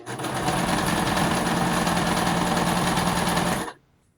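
A sewing machine runs steadily while jeans and a skirt are made into flares, a loud continuous close mechanical whir that stops abruptly near the end, with no talking.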